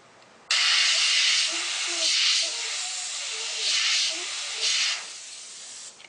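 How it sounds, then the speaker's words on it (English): An airbrush-style spray gun hisses red paint against a stencil held behind a freehand shield, a steady airy rush swelling in several short pulses as the nozzle passes, close and fairly loud. "That noise you're hearing is where it's blowing on the stencil,"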